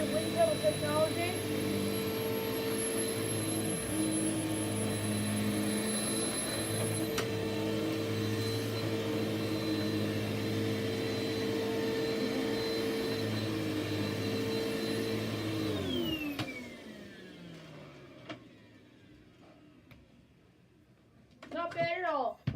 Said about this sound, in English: Right here you can see Hoover's patented wind tunnel technology.